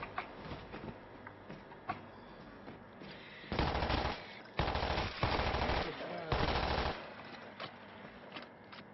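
Automatic gunfire from the video game World War Z Aftermath, with three loud, dense bursts of rapid shots standing out over a busy game soundtrack.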